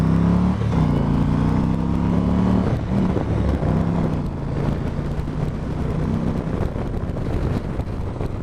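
A motorcycle pulls away smoothly from a stop, its engine tone climbing through the first few seconds before heavy wind rush takes over as speed builds, with no talking.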